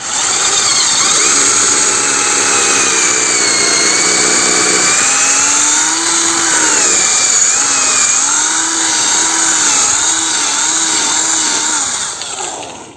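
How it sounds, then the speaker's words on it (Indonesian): Power drill boring holes into an agarwood tree for inoculation, a loud, steady whining motor with pitch that dips and wavers under load, continuous and close for the whole stretch. "udah ada 3 titik yang kita bor."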